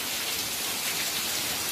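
Rain falling steadily, a bright broadband hiss of many drops on surfaces, constant and moderately loud with no pauses and no one talking.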